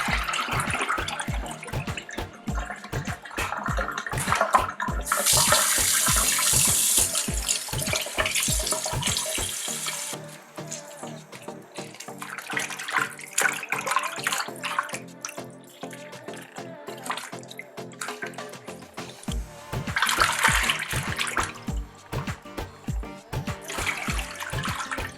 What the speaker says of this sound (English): Next, I'll drain and rinse a couple of times.